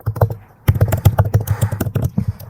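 A password typed on a computer keyboard: a close, loud run of rapid, uneven keystroke clicks after a brief pause, with no talking.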